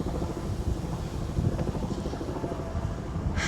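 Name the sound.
helicopters hovering overhead in Boston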